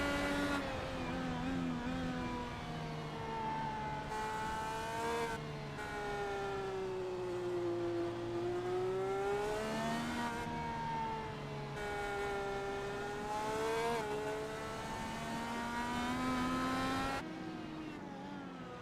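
An IndyCar from Apex Racing Academy, heard onboard on the Mid-Ohio road course, howls through repeated rising and falling engine revs as it shifts up and down through corners, loud and continuous.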